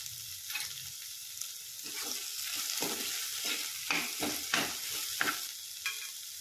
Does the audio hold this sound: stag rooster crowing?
no